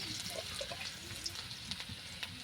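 A spice paste of onion, dried red chilli, turmeric and salt sizzles in hot oil with a soft, steady frying hiss and faint pops, quiet and continuous.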